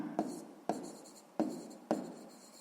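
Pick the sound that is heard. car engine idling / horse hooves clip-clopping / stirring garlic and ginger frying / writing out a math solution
writing out a math solution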